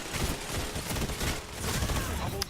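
Blue scout rifle fire in the Destiny video game crackles in dense, rapid volleys throughout, with a voice talking underneath.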